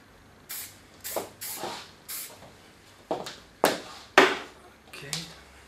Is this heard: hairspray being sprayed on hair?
yes